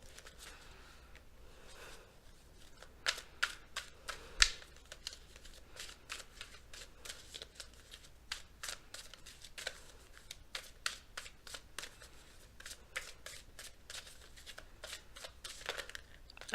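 Messenger Oracle cards being shuffled, a quiet run of crisp rapid riffles and flicks that continues steadily from start to finish.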